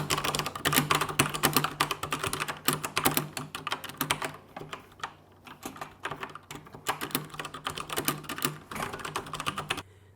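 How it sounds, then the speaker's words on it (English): Fast typing on a Logitech G710+ mechanical keyboard with Cherry MX Brown switches: a dense, close run of crisp keystroke clacks with a few short pauses and no talking. "I got a mechanical keyboard because I actually want that really clicky sound"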